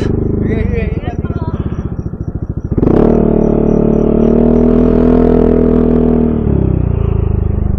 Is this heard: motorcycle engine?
yes